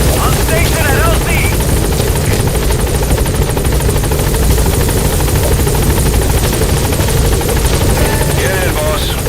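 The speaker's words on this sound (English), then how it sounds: "Support helicopter has arrived." A support helicopter in Metal Gear Solid V keeps up a loud, steady rotor roar with constant engine buzz, alone and close throughout.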